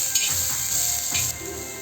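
Garlic roasting in oil in a pan, a steady close sizzle with faint stirring scrapes and clinks, brief and unbroken.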